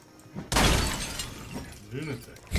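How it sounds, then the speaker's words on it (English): A car window shatters loudly as a car is smashed in Project Zomboid, a sudden crash of breaking glass with a decaying spray, followed by a short voice and further knocks. "I'm smashing this car."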